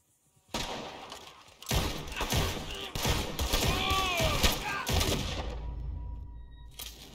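Bursts of rapid gunfire crackle through most of the clip in a Red Dead Redemption 2 duel, with overlapping shots and thuds, ending in a lingering low rumble.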